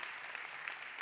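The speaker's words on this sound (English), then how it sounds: "Great applause for Innovaction Lab." Applause at a food-tech startup demo day, a steady wash of crowd clapping heard briefly and faintly, with no talking over it.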